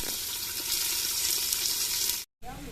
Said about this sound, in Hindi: तो मैं पहले ये प्याज ब्राउन कर लूँ